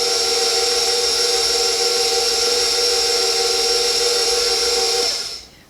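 An electric mixer running on low speed through snickerdoodle cookie dough, a steady close whirring hum that holds evenly and then cuts off as the motor stops.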